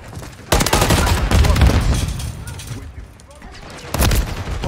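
Heavy gunfire from a shooter video game, with bursts of automatic fire and explosions at a capture point, loud and dense, under shouted game voices and player chatter.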